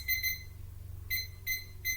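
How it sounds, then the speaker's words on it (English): An electronic slow cooker gives a few sharp, high-pitched beeps in quick pairs and short bursts, fairly quiet, with a low hum underneath. "wait for me to finish beeping this"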